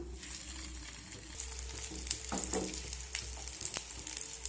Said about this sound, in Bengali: এখন আমি ওই তেলের মধ্যে সেঁকে রাখা একটা নাস্তা দিয়ে দিলাম।